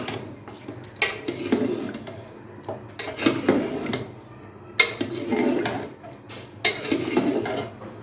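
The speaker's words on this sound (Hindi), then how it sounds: "इसको शामिल करके मिक्स करेंगे। इसको अच्छे से मिक्स कर लेते हैं।" A pot of mutton paya curry with salt and turmeric is stirred with a metal spoon, giving irregular clanks and scrapes against the pot with brief pauses between strokes, and no voices.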